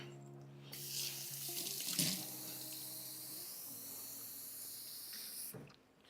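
Tap water runs steadily into a kitchen sink or pot while noodles cook, a continuous broadband rush and hiss lasting about five seconds before being shut off, with a low appliance hum underneath.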